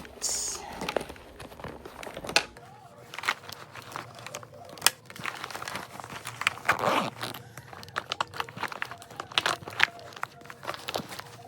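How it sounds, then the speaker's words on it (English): A makeup bag is unzipped and handled up close. Soft crinkling, rustling and small clicks come in irregular bursts, all fairly quiet. "So let's see now if I unzip it."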